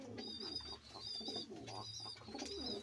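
Fantail (lokka) pigeons cooing close by in a home loft, in repeated soft, throaty, rolling phrases with short pauses between them.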